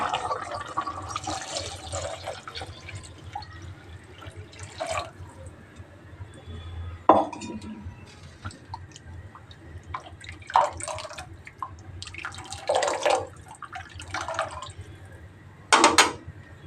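Water poured into a rasam pot with turmeric and coriander leaves, heard as a few short splashy pours and drips separated by quieter gaps, fairly close.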